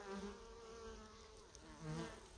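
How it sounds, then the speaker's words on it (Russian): Honeybees fly around the spot where a bee trap had lain in the countryside, a faint, continuous buzzing hum of several wings with the drone rising and falling as insects pass. "Пчелы прилетели сюда на место, где лежала ловушка."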